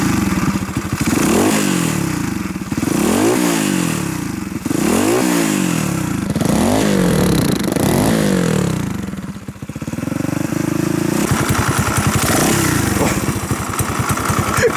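A modified Choinori motorcycle fitted with a Loncin horizontal engine runs close by, loud and raw, revving up and dropping back in repeated surges before settling into a rough, rapid idle.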